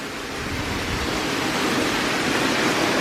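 Waterfall beside a secluded villa pool at a Jamaican resort, a steady broad rushing hiss of falling water, close and continuous, slowly swelling slightly in loudness, with no voices.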